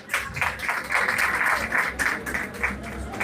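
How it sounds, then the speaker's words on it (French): A crowd claps in sustained applause for Ariana at a packed outdoor political gathering in Cap-Haïtien, a dense steady patter of many hands with some voices mixed in. "Je vous demande d'applaudir encore une fois Ariana."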